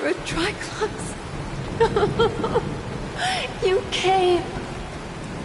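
Steady rain falls in a broadband hiss throughout, with voices talking over it and a few brief sounds rising above the wash.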